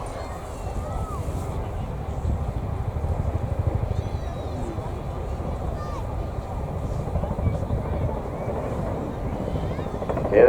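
Boeing CH-47 Chinook helicopters of the Royal Air Force display team at a 2019 flying display, their steady rotor thrum and turbine roar rising and falling in wind, loud and continuous, with crowd noise and an announcer's voice over it.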